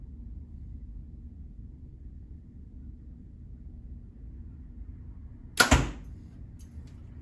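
A single quick, sharp release of an arrow from a Hoyt RX5 carbon compound bow, a brief close thwack after several seconds of low ambient rumble.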